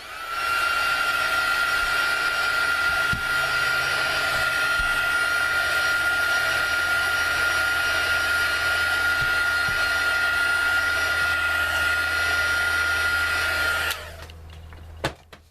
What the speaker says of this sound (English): let this sit for a bit and dry, or zap it with the heat tool